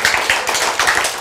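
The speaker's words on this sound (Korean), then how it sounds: "박수 치세요." Audience applause at a medical lecture, a short burst of scattered hand claps with irregular sharp taps, moderately loud and without talk.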